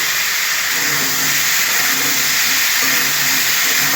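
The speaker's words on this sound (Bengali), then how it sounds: "আলুগুলো আমি ভালো করে কষিয়ে নিয়েছি বন্ধুরা" Potatoes sautéing in a pan for ridge gourd and poppy seed curry give a loud, unbroken hiss of sizzling oil that stays steady from start to finish.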